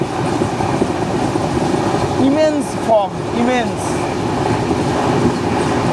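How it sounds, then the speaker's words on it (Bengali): The 12863 Howrah–Bengaluru superfast express rumbles steadily along the tracks at 130 km/h in dense fog, with a constant roar and rhythmic rattle, while someone talks briefly over the noise partway through. "ট্রেন পুরো 130-এ চলছে"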